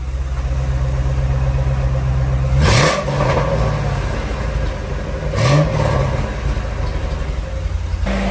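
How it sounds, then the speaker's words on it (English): A Ford Crown Victoria V8 running through chopped-up Crown Vic exhaust silencers, a loud steady idle broken by two quick throttle blips that rise and fall in pitch before settling back. "Exhaust sounds pretty good as well."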